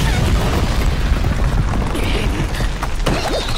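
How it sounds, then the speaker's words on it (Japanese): An explosion in the video game Monster Hunter Stories 2 comes as a loud, dense, continuous rumble full of booming crackle, with some scattered mechanical clatter on top. "なんだあれ、爆発したぞ。"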